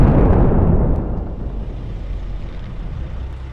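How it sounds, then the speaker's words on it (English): A tank struck by a drone blows up in a massive explosion, a loud deep blast at the start that decays into a long rumbling roar with no voices. "This time, the tank ignites. The flames begin to rage. And then, a massive explosion."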